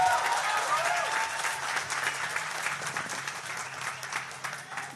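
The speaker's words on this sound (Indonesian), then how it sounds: "Ya tepuk tangan kita semuanya." A crowd at a youth discussion event claps in sustained applause, a dense, even patter that slowly fades while voices talk over it.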